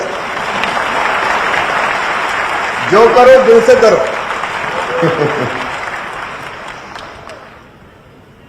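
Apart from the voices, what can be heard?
audience applause at a government app launch event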